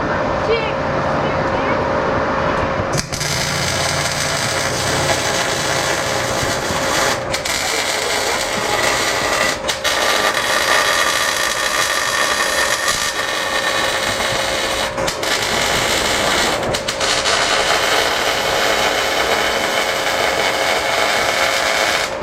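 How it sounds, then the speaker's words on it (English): A new welder at work on rear shock mounts for a VW Baja Bug with 3x3 trailing arms, a steady loud crackling buzz running almost continuously with a few brief pauses. "Yes, I do like my new welder."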